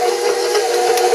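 A steady, continuous electric mixer whir mixing Oreo wafer cake batter, with a constant mechanical drone, loud and close, with no pauses or talking.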